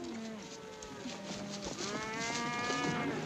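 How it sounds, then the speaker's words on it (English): A cattle herd near a creek moos in a drawn-out, overlapping chorus, several animals lowing loudly and close at once over a low outdoor background. "Cattle will be glad to get a drink."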